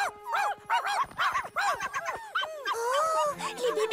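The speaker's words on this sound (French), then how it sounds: "Oh, les bébés chiens sont rentrés." Cartoon puppies bark, yip and whimper in quick, high overlapping bursts, close and lively, several small dogs calling over one another for a few seconds.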